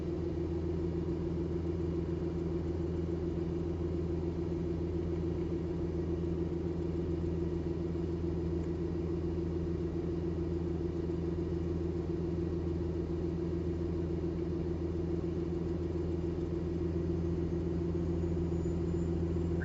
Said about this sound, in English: I got 3 pounds of boost now, so the turbo's already more responsive with just 400 something RPM higher.